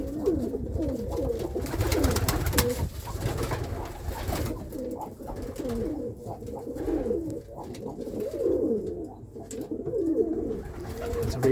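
Dark red Irish old school tumbler pigeon cocks cooing in a loft, repeated soft, throaty rolling coos overlapping steadily, close and continuous, with faint rustling and shuffling behind them.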